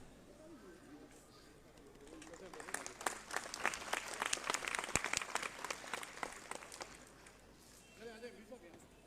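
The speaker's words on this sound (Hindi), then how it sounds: "तालियों में इतनी कंजूसी क्यों है भाई?" Audience at a freelancer conference applauding during a speaker session, a modest burst of clapping from a crowd that swells and then dies away, with faint chatter around it.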